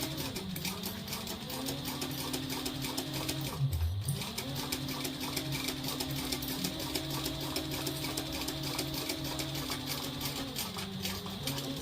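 A sewing machine back stitches a seam in clear vinyl for a trick-or-treat bag, running in a steady, close, continuous whir with a brief slowdown and restart partway through, and no talking.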